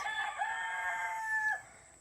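A Barnevelder or Marans rooster crows once, a drawn-out, fairly loud call lasting about a second and a half before it breaks off.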